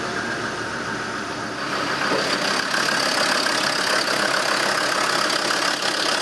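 A Land Rover Defender diesel engine with its EGR valve in question settles into a steady idle after starting, a continuous close mechanical rumble that rises slightly in level partway through, with no talking.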